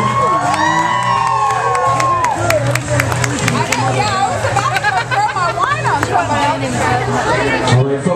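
Wedding reception guests cheer, whoop and shout for the bridal party of bridesmaids and groomsmen, a loud, continuous crowd roar full of excited voices and chatter.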